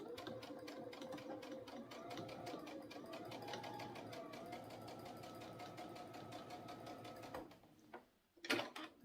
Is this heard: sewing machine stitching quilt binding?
yes